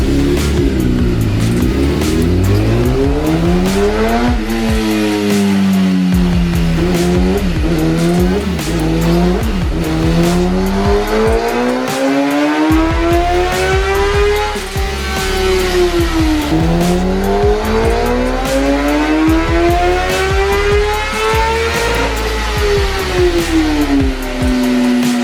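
A 2017 Kawasaki ZX10R sport bike engine revving on a dyno, loud and continuous, with the pitch sweeping up and down through repeated high-rpm pulls and a brief dip near the middle, no voices.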